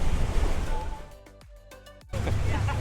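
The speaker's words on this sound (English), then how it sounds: "it is a little windy" Wind buffets the microphone on a Florida river boat tour, loud low rumbling gusts that drop away for a moment, during which someone briefly speaks, then surge back strongly.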